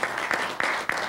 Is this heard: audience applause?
yes